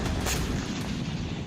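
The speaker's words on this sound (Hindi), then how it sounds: "इसी के साथ ही जोरदार धमाका हुआ" A heavy, muffled explosion from a water drone strike on a Russian landing ship in southern Crimea, heard as one dense, sustained boom and rumble with a brief sharper burst near the start.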